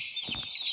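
A bird clucking in the video game Garten of Banban 2, a short soft cluck with a high thin tone behind it, faint and alone.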